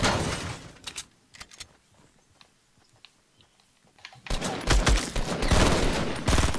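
Fortnite Battle Royale gunfire from players in a tunnel, rapid bursts of shots at the start, scattered quieter pops in the middle, then a dense loud volley near the end.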